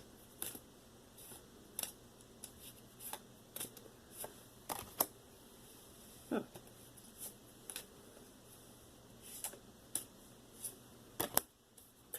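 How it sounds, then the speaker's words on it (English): Tarot cards riffled in a waterfall shuffle, giving a string of separate crisp paper flicks and soft patters at an uneven pace, close and quiet with no talk. "So now I'm going to do the waterfall shuffle."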